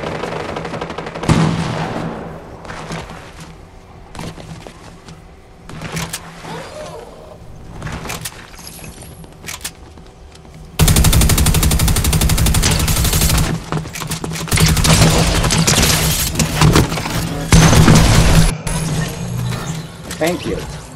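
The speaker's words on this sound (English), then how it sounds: "Now, give us some gunshots." Gunfire rattles through a Fortnite match in rapid bursts and volleys, loud and close, growing denser in the second half, with a voice talking over the action.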